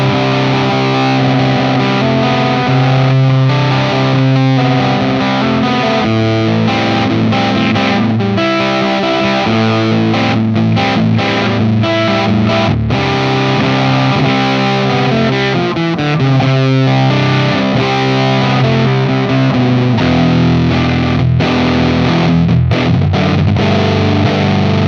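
Electric guitar played through a Bardic Audio Devices HM Demon distortion pedal, a thick, saturated distorted tone with chugging chords and sustained notes, loud and continuous with no talking.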